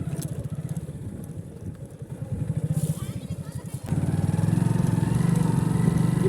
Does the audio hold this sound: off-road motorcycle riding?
yes